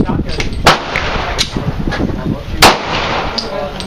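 Sig Sauer Mosquito .22 pistol fired at outdoor targets, several sharp gunshots spaced irregularly, with two louder cracks standing out over a busy background where people talk.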